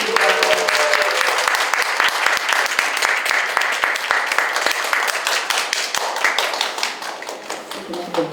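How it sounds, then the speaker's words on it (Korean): Audience at a December 2023 community gathering in Jungnang applauds steadily and loudly as representatives come forward, dense hand clapping filling the room, with some voices faintly mixed in. "박수 부탁드립니다."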